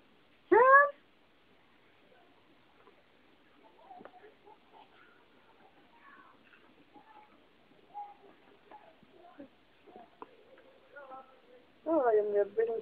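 A cat gives two clear meows, one at the start and another near the end, separated by quiet stretches of faint rustling and small noises.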